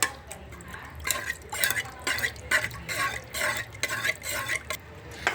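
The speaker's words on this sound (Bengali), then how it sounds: "এখন এই দুধটা দিয়ে বন্ধুরা আমি ভালো করে নাড়িয়ে নিই" A spoon stirs milk in a pan while white sauce for pasta is being made, giving soft repeated scraping and swishing strokes with light liquid sounds. The stirring is close and fairly quiet, and no one speaks.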